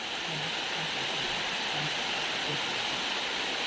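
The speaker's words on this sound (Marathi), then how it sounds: "आंबोलीचा आपण हा प्रत्यक्ष धबधबा पाहतो।" Amboli waterfall in the Konkan hills roars as a steady, dense rush of falling water, loud and unbroken throughout.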